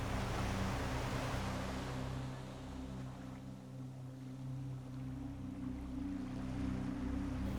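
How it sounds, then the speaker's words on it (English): A soft, continuous wash of surf rolls in and recedes, with a low steady rumble underneath, calm and fairly distant. "as you hear the sound of the waves in the distance"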